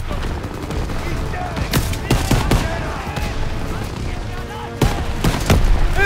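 Machine gun and rifle fire in the World War II shooter Call of Duty: WWII during a hillside assault: dense rattling bursts with sharp, loud single cracks and a heavy blast near the end, under battle chatter.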